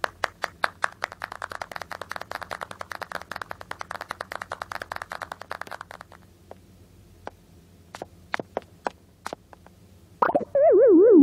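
Applause at an Animal Crossing magic show, dense rapid cartoon-like clapping for several seconds that thins to sparse single claps, then a rising musical jingle at the end.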